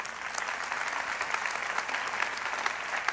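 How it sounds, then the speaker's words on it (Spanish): Church congregation applauds together, a sustained wash of many clapping hands at even loudness with scattered sharper claps, heard alone without talk. "Dele un aplauso al Señor"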